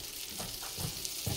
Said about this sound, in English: Now I'm going to use the rest of this butter. I'm going to melt it down